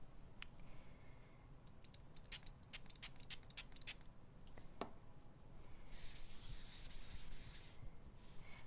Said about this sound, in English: And then I'm going to spritz it.